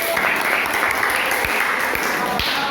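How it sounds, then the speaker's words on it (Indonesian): Classroom audience applause at a high school negotiation-text lesson, a dense steady patter of many hands clapping at even loudness throughout, with a few sharper individual claps standing out. "Oke, beri tepuk tangan."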